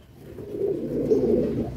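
A Madrasi high-flying pigeon of the Kalduma type coos in a low, soft, continuous murmur, close by and alone, swelling slightly toward the end.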